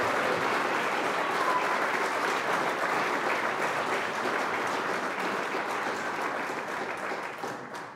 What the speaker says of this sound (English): have people give a round of applause to Neil and Patricia for the great work that they do